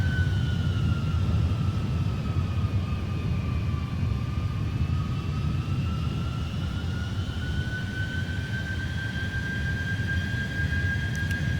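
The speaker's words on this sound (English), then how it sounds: "there's the thrust coming back up" A Boeing 747-400F's engines in the Prepar3D flight simulator hold a loud, steady jet roar with a faint whine that slowly rises in pitch as thrust comes back up, heard alone throughout.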